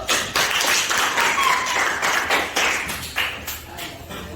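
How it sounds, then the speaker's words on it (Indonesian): A classroom of students claps together in a dense, steady round of applause, loud and close, continuing for several seconds without talk. "Tepuk tangan dulu."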